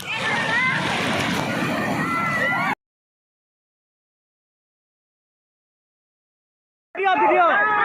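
Sea water splashes and sloshes at Puri Golden Beach, a dense churning wash up close, cut off abruptly into silence and then returning in a short burst, with voices mixed in.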